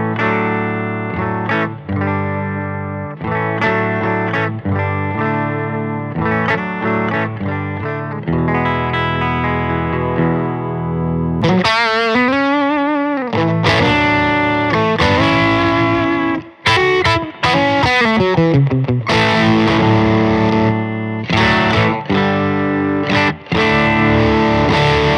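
Heavily distorted electric guitar through a Wonderful Audio Technology Fuzz Lands pedal into a Benson Monarch Reverb amp, with a thick fuzz tone, plays sustained chords and riffs, loud and continuous, with a brief pitch-bending passage midway.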